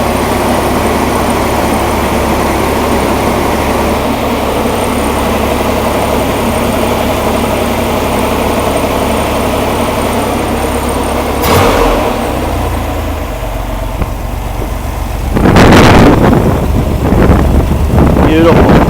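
A Rampy engine running just after its first start, a steady droning rumble with wind buffeting the microphone, then a sharp knock and a louder burst of revving toward the end.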